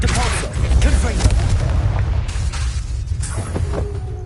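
Confringo blasting spell explosion in the Hogwarts Legacy video game, a loud, rumbling boom that swells early and then rolls off into a lingering low roar, close and heavy.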